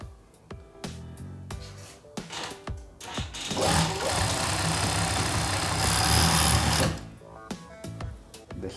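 Sewing machine stitching pieces of fabric, a few short stop-start bursts of needle clatter, then a sustained fast run of stitching for about three seconds, then short bursts again.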